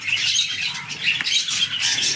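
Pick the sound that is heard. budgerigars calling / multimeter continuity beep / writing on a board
budgerigars calling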